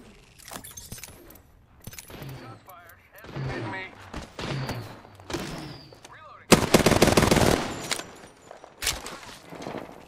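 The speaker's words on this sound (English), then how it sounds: "Opening fire." Gunfire in the battle royale game Apex Legends comes in sharp bursts and rapid automatic volleys, with a loud sustained barrage midway, mixed with clattering effects and bits of speech.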